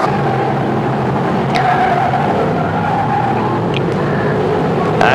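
A BriSCA F1 stock car spins out during the World Final race at Kings Lynn, a loud continuous roar of engines and tyre noise with brief high squeals as cars pass close.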